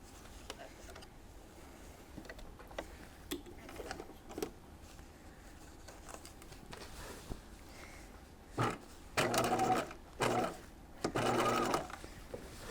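Sewing machine understitching a jacket facing through the seam allowances, running in several short loud bursts near the end after quieter handling sounds.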